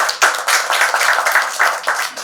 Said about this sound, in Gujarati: સૌથી પહેલા તો આપ સૌ આપના માટે તાળીઓ વગાડો